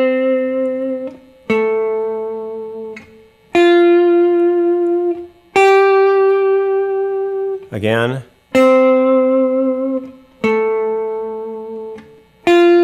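Electric guitar playing sustained single notes with a slow, wide vibrato, held tones separated by brief gaps and one quick slide, close and clear, with a short spoken word partway through.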